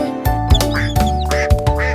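Repeated duck quacks, loud and close, over a busy musical background with sung or spoken sounds from a French children's song.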